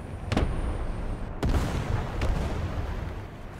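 Gunfire and explosions in the War Thunder tank game, with a sharp blast, a second heavy boom and a later fainter hit over a loud, continuous battle rumble.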